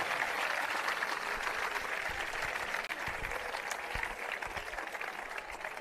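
An audience applauds steadily at the closing ceremony of the JIJ Athens 2024 in Grammatiko, Greece, a dense, even patter of clapping that holds for several seconds without a break.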